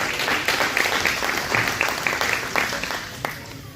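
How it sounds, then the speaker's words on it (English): Hand clapping from the audience at a community candidates' forum after a prayer, a dense round of applause mixed with a few louder individual claps, with some crowd murmur underneath. "Give the Lord a hand clap."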